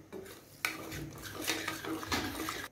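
Eggs and crab meat being mixed in a pan with a utensil, giving steady clattering and scraping of metal against the pan, close and fairly loud, with no talking.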